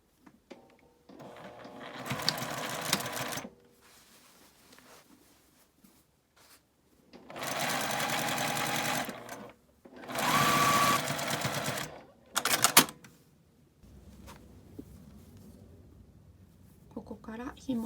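A sewing machine stitches a lined drawstring bag in several separate bursts of fast, even whirring, each a few seconds long, with quieter pauses between them and a voice talking softly in the gaps.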